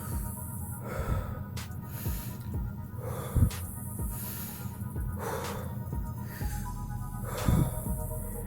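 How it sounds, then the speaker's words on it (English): Deep belly breathing demonstration: slow, audible inhales and exhales through the nose and mouth repeating at a steady pace, close and fairly quiet, with occasional sharper sniffs and no speech. "think of breathing with your stomach and your core"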